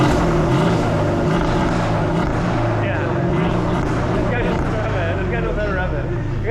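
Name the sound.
Mercedes CLS550 exhaust with resonator delete and X-pipe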